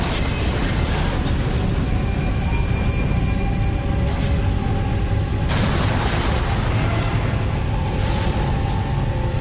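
An atomic bomb explosion roars as a dense, loud, continuous rumble that fills the whole stretch, with a sudden shift in its texture partway through.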